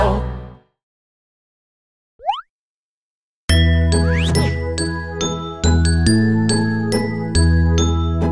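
A musical bell-like chime rings out after a short rising blip, sounding several sustained tuned bell notes in a steady descending-and-repeating pattern, clear and fairly loud with no talking.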